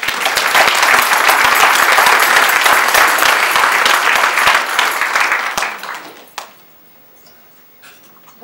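An audience at a Christmas band concert claps loudly and steadily for the accompanist for about six seconds, then the applause tapers off into near quiet with a few stray sounds.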